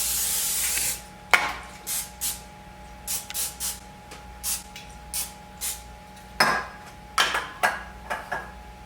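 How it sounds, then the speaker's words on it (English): Olive oil cooking spray hisses onto a pan in one loud burst of about a second. A string of short rubbing and scraping sounds follows at an irregular rhythm in an otherwise quiet kitchen. "I'm going to start off by just spraying the pan with olive oil just so they don't stick."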